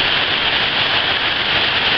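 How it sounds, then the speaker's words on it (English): Heavy rain pours down steadily around a boat under its cover, a dense, loud, unbroken hiss that stays close and constant throughout, with no voices. "it's just starting to get really heavy again now, the rain"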